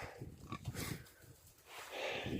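Pigs, including a boar, feeding at a pail of grain on a farm, with close, faint grunts and snuffling, low rooting noises and a soft squeal rising near the end.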